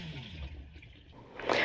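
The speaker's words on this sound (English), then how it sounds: "I've pushed the button, water's filling in the toilet, and then the water stays right in the bottom of that bowl." An RV toilet flushes when its button is pressed, and water rushes and gurgles steadily into the bowl. A louder splash surges at the end, close by, with no talk.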